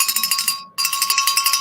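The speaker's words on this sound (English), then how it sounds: "So what we're going to do is ring the bell." A handbell rings rapidly and loudly in an even rhythm, pausing briefly midway before resuming with the same bright, clanging strikes.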